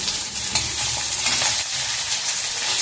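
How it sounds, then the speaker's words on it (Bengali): Morula fish frying in a pan with oil, a dense steady sizzle with faint stirring and turning noises, close and continuous, no talking. "মাছটা আমার এক পিঠ ভাজা হয়ে গেছে, আবার এই আর এক পিঠ অন্য পিঠ উল্টিয়ে দিলাম"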